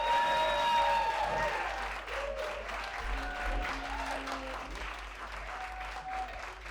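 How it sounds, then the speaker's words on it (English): A comedy club audience applauds for a comedian taking the stage: dense, sustained clapping with crowd noise, loudest at first and then tapering, while music plays underneath. "Keep that applause going."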